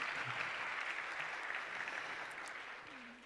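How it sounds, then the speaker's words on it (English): A keynote audience claps in a sustained wash of applause that slowly fades. It is moderately distant, and a voice is briefly heard over it. "you can applaud"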